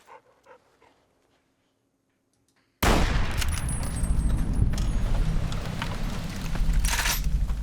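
A dog companion in Fallout: New Vegas pants loudly and continuously, mixed with dense, noisy game sounds after a quiet opening.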